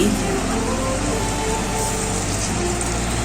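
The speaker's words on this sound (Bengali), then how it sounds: "এবার ভেজে রাখা রুই মাছগুলো দিয়ে দিচ্ছি।" Fried rohu fish pieces hit a hot pan of spiced oil for chili fish, producing a loud, steady, hissing sizzle that carries on evenly throughout.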